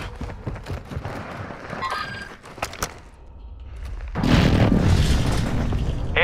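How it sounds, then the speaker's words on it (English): Hostile airstrike explosions in a video game land as deep booms: a few scattered thuds, then a loud, heavy rumbling blast that rolls on to the end. "Hostile airstrike incoming."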